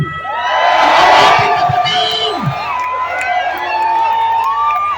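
A large crowd at an anti-corruption protest in the Philippines shouts and cheers together, a loud sustained roar with individual voices whooping over it.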